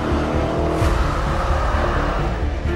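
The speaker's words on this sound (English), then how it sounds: "Even now, starting this first RS4 is pure emotion." A first-generation Audi RS4 engine fires up and runs with a loud, rough, close rumble, blipping once early on, with no voices over it.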